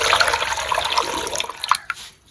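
Water pours from a small metal pot into a pressure cooker holding cut raw mangoes, splashing near and fairly loud before tapering to a few drips.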